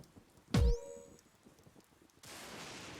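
Rain falls on a video game stage: one sharp impact, then a steady hiss of rainfall that sets in and continues evenly to the end.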